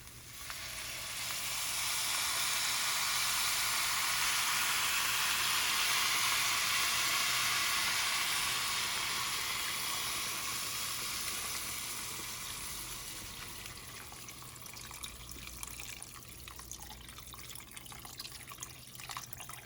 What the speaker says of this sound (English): And finally, we'll add a liter of water.